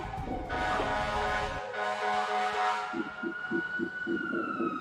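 Police and ambulance sirens pass outside, a wailing tone heard from inside over a phone call, with a rhythmic horn-like pulsing joining in later, moderately loud with some street rumble.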